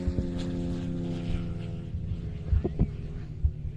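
A large 40% scale model aircraft flying at an airshow, its engine a steady droning hum with throbbing harmonics at moderate distance, alone with faint background noise.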